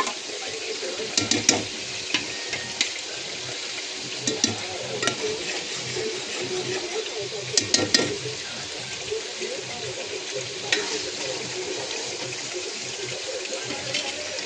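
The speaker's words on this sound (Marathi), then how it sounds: "आणि हे वाटण चांगलं फ्राय करून घ्यायचं एकदम। त्याला चांगलं तेल सुटस तर आपण फ्राय करून घ्यायचं।" Ground green chilli spice paste sizzles in oil for a mutton curry, a steady close frying hiss with occasional stirring scrapes and clinks throughout.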